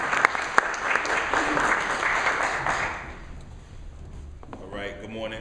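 Audience in a lecture hall applauding to welcome a speaker, a full, steady round of clapping that fades out, followed by a voice beginning to speak.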